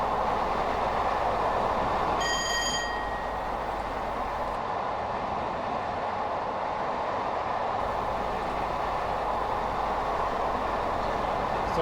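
A Class 421 electric multiple unit rumbles continuously along the track in Train Sim 2021, with a short tonal horn-like blast early on over the steady running noise.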